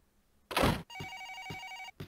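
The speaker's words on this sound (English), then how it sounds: "The phone's ringing." An in-game telephone in the horror title Twilight Syndrome rings in a single electronic trill burst after a brief noisy hit, fairly close and clear, with no voices.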